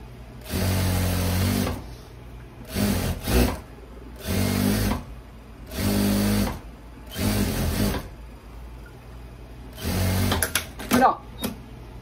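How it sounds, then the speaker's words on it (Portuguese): A sewing machine stitches soft polyamide elastic onto a loose viscose dress, running in five or six distinct bursts of steady mechanical whirring separated by short pauses. "Ó, agora eu vou passar mais uma costura aqui."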